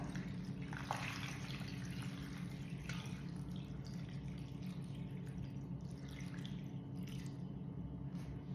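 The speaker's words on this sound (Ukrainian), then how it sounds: "наш розсол і заливаємо" Brine trickles and drips into a jar of peppers, a faint, steady liquid pour over a low background hum, with no voices.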